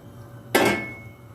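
A pan of potatoes is lifted and set down on another stove burner, giving one sharp metallic clank against the grate that fades quickly into quiet kitchen hum.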